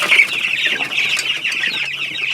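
Meat chickens cluck and chatter in an excited, continuous flurry as their feed is put back, close by and steady throughout, with no talking.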